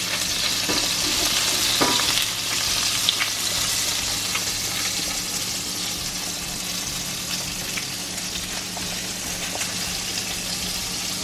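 Chicken meatballs browning in a pan for albondigas: a steady, close sizzle and crackle of frying, with a few sharper pops and faint stirring clatter, alone with no talk.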